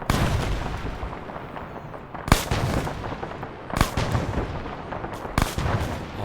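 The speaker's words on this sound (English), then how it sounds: "Yep, mortars coming in." Incoming mortar rounds land during an Arma 3 battle, with several heavy booming impacts spaced a second or so apart over continuous rumbling gunfire and distant battlefield noise.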